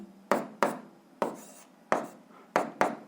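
Chalk writing on a board while working a physics problem, six separate sharp strokes in an uneven rhythm, each fading quickly, close and fairly quiet with no talk.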